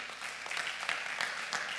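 Church congregation applauding during a sermon, a short steady spread of clapping at moderate level with a few sharper claps standing out.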